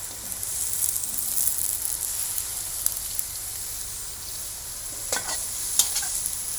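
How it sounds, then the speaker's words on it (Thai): Steady sizzling of bell peppers stir-frying in a hot pan, with a few louder scraping and tossing sounds near the end. "ใส่พริกหยวกลงไปผัด"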